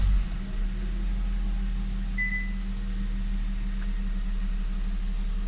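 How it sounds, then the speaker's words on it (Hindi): A 2020 Kia Sportage engine idling in a steady low hum, close and continuous, with a faint high whine briefly above it and no talk. "गाड़ी स्टार्ट करते हैं इधर से।"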